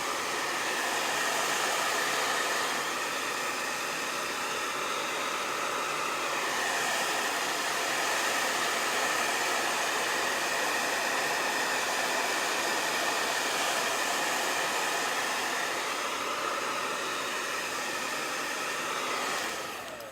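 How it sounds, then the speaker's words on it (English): A hair dryer blows steadily and loudly over a llama painting, a continuous airy whoosh running without a break for about twenty seconds, with no voices over it. "first I need to blow dry"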